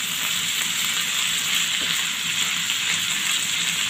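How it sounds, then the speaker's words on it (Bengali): Beef sizzles hard in hot mustard oil for a Bangladeshi beef bharta, a dense, loud, continuous hiss and crackle with no voices over it. "আমি এটাকে ভালো করে ভেজে নিচ্ছি"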